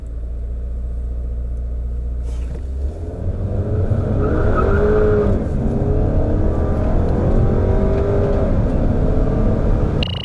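A Chevrolet Malibu 2.0 turbo accelerates hard during a performance test, its engine rumble building loudly and steadily over about ten seconds, with tire noise and rising revs close by.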